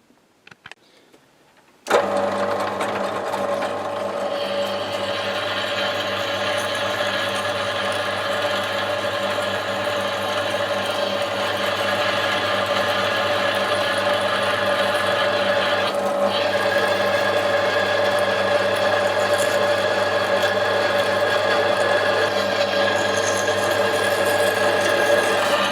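A continuous mechanical whir of a powered tool runs steadily and loudly for over twenty seconds without a break while threads are tapped to bolt a vise onto a restored Meier & Weichelt mobile workbench.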